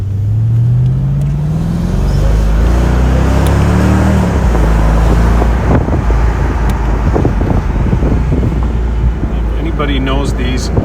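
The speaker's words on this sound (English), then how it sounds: "You always hear the clutch in the supercharger as it spools up." A 2004 Mercedes-Benz SL55 pulls through the gears while driving, its supercharger clutch engaging as it spools up, a loud rising engine drone with rushing wind noise throughout.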